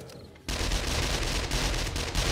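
Sustained, loud automatic gunfire in 7 Days To Die Alpha 21 multiplayer, aimed at the legs of demolisher zombies, starting abruptly and continuing as a dense rattling burst.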